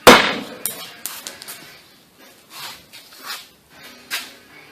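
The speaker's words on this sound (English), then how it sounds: "take a regular nut and smash it with a hammer" A sharp metallic strike opens, followed by several lighter knocks and clinks spaced irregularly, as a hammer smashes a metal nut on a hard surface.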